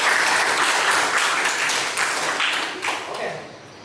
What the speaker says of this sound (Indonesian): Aplaus untuk si Bilang.